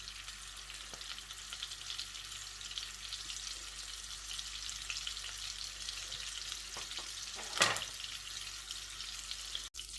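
Butter melting into sunflower oil in a pan for paneer butter masala, a soft, even sizzle running steadily throughout, with one brief louder burst near the end.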